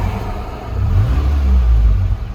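A Ford Ranger engine idles steadily up close, with a low, even rumble that swells slightly in the middle before settling back to a constant hum.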